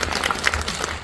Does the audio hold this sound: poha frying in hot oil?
no